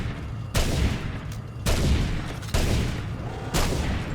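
Heavy weapon blasts in the robot combat game Robocraft fire in four evenly spaced booming volleys about a second apart, each followed by a rumbling, crackling tail, loud and without speech.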